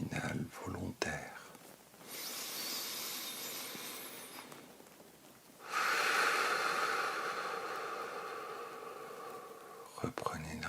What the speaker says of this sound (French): Réalisez une ample respiration abdominale volontaire.